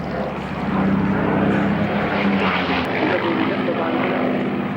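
A Messerschmitt Bf 109 fighter at an autumn air show at Duxford, its piston engine running with a loud, steady propeller drone that holds constant, with a voice speaking faintly over it.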